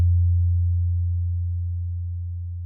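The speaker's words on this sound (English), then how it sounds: "This is going to be just a sine wave." A plain low sine wave tone from the UVI Falcon 2 synth, set up as a pluck patch, sustained steadily and slowly fading over a few seconds, alone and clean.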